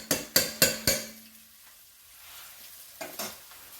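Seasoned rice stirred in a pot, a handful of quick scraping strokes close up, the first few loud and rhythmic, then a pause before two fainter stirs.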